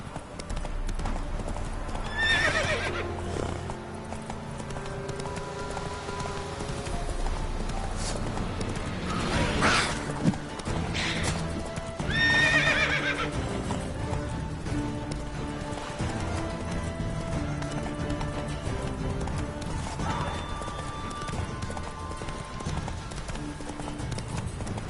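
Roach, Geralt's horse in The Witcher 3, trots with steady clip-clop hoofbeats and lets out a couple of whinnies, with layered game ambience and music underneath.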